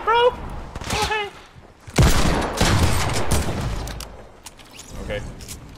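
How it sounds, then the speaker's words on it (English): Gunfire in the Fortnite video game: a sharp burst of shots hits after a moment of voices, then rattles on and fades, with a faint crack near the end. "Yo, you're shooting my build, man."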